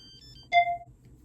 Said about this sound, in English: Every time when I film a damn video, I got a phone call.